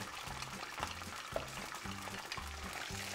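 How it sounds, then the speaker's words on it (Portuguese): Corn bread crumbs sauté in a pan, a soft, steady sizzle broken by repeated rhythmic scraping strokes as they are stirred. "salteio a broa bem salteadinha"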